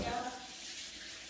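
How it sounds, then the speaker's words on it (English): Tap water running steadily over hands being washed before cooking fish, a brief close hiss of flowing water with no talking. "Before we start, wash our hands."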